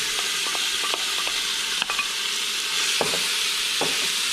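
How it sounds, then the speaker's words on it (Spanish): Bacon pieces browning in a hot pot for beef soup, giving a steady, faint sizzle with a few sharp stirring clicks and light scrapes scattered throughout. "echar nuestro tocino a que se empiece a dorar y suelte"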